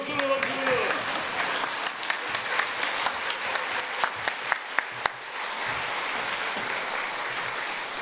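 A congregation applauds during a church revival service, with dense continuous clapping that rings out for several seconds, carries sharper individual claps midway, and gives way to a softer murmur.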